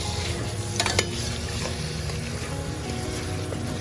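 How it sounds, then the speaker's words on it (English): Creamy khus khus poppy seed sauce is stirred into Bengali aloo poshto in a hot pan, with a steady soft sizzle and wet swirling scrape running throughout, plus a couple of brief utensil clinks near the start. "this is when we're adding the sauce into it, the Khus Khus sauce. And give it a nice swirl."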